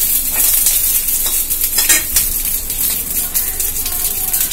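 Ingredients for bone soup sizzle and crackle in a hot pan, with steady frying hiss and occasional scraping of a spoon as they are stirred.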